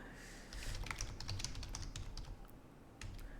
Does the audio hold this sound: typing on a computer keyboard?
yes